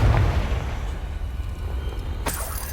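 A Confringo fire spell explodes in the Hogwarts Legacy video game, a loud, close blast with a deep rumbling roar that holds steady, then a sharp crackling burst near the end.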